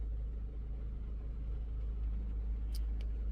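A Maruti Brezza engine idles after an overhaul, a steady, smooth low rumble that holds even and unbroken throughout, with a couple of faint clicks near the end.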